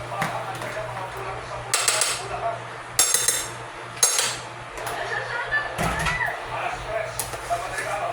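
A metal spoon stirs leftover roast pork into mung bean stew in a pan, producing repeated scraping clanks and clinks at uneven intervals, fairly close, with a voice talking over part of it.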